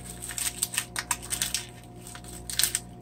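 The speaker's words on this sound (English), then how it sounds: "Cut the onion in half." A knife cuts through an onion on a board, with a string of sharp, close chopping taps in an irregular rhythm over a low background hum.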